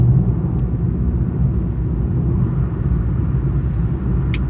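A motorhome with a tow vehicle driving on a New Mexico road produces a loud, steady low road rumble and engine drone from inside the cab throughout, with no talk.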